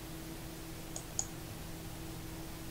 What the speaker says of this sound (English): I click on Print.